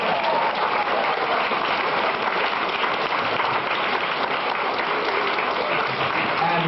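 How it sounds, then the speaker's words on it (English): A lecture audience in Maryland breaks into steady, dense applause for Gorbachev, an even, continuous roar of clapping heard from within the hall at constant loudness. "How about a round of applause for Gorbachev?"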